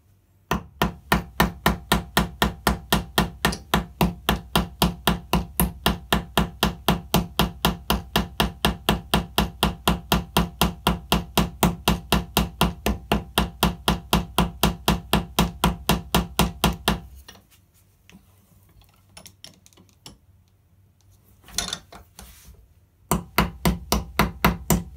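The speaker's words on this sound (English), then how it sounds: "And then we need a ball hammer. I use a 8 oz hammer here" An 8 oz ball hammer shapes rivet heads in fast, evenly spaced metallic taps, dozens in a steady run, then a pause with faint handling sounds before the close, sharp strikes resume.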